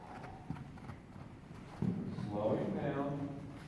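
A young mustang walks during a training session, its hooves giving soft, irregular clip-clop thuds on the ground, with a trainer's voice over the steps.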